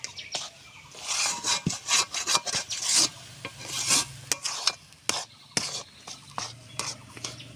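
Giant taro (mankochu) paste being stirred in a pan without water in a village kitchen, giving irregular close scraping and rubbing strokes with soft thick squelches, alone without talk.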